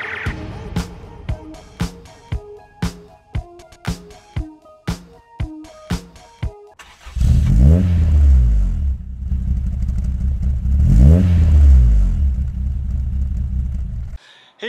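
A 1999 Subaru Impreza RS fitted with an STi engine swap cranks with sharp clattering pulses for several seconds, then catches and revs hard in two loud, rumbling swells before settling back, close and alone without talk.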